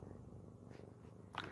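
A kitten purrs softly and steadily, close by in a quiet room, a low continuous rumble with a faint brief sound near the end and no talking.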